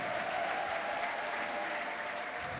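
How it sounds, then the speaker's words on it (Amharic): A church congregation applauds in steady, dense clapping that continues loudly and evenly throughout, with no pauses or voices standing out. "አጨብጭቡላት።"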